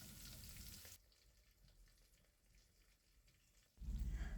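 Masala-coated tilapia fish pieces fry in coconut oil with a soft, steady sizzle and light crackle, quiet and close, framed by louder clatter at the start and end.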